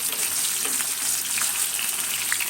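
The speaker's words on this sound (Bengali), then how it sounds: "মাছগুলোকে বেশি চারটে চারটে করে ভেজে নেই" Kaila nola fish frying four at a time in hot oil, a steady broadband sizzle with crackling spatters throughout, close and continuous with no talk.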